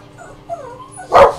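A pet dog whimpers softly with thin whining tones, then lets out a single loud close bark near the end, indoors with no talking.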